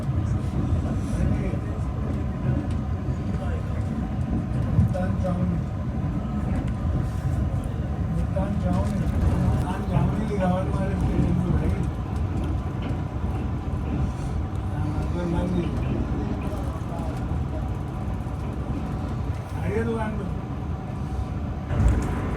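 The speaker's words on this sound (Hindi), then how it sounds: "ट्रेन हमारी अप्रोच बना रही है मुल्तान कैंट रेलवे स्टेशन पर" The Shalimar Express train approaches Multan Cantt railway station, a continuous, fairly loud rumble of the moving train that holds steady throughout, with a voice speaking over it.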